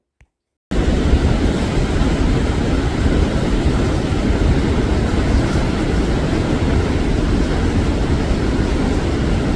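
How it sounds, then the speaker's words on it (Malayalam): Attukad waterfall in tea-estate country roars loud and unbroken after a moment of silence, a dense, constant wash of falling water close by. "ഇത് ഏറ്റവും മനോഹരവും എന്നാൽ ഏറ്റവും അപകടം നിറഞ്ഞതുമായ ഒരു സ്ഥലമാണ് ഈ വെള്ളച്ചാട്ടം."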